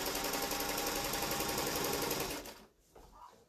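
A sewing machine runs steadily, top stitching a cork and linen tote bag, with a dense even mechanical chatter for over two seconds before it stops abruptly, leaving faint handling noise.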